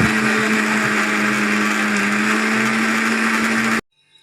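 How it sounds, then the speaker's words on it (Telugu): A mixer grinder whirs loudly and steadily, blending pani puri chutney ingredients smooth. The motor runs nonstop up close, then cuts off abruptly just before the end. "ఇగో అవన్నీ వేసి ఇలా మనం మెత్తగా మిక్సీ పట్టుకోవాలి"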